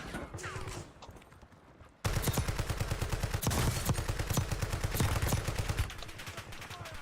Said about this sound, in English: we probably shouldn't sit in there and take those gunshots